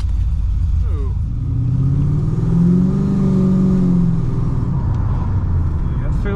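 A cammed SS Commodore with an LS1 V8 pulls away from a stop, its engine note rising and falling as it drives off, close and loud with a steady lumpy rumble underneath.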